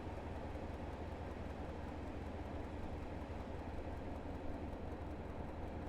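A British Rail Class 47 diesel locomotive hauling an intercity service rolls past as a broad, steady, fairly distant roar of engine and wheels on rails, constant throughout with no voices.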